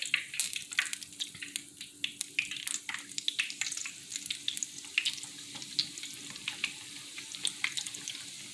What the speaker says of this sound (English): The other ones, just frying them up.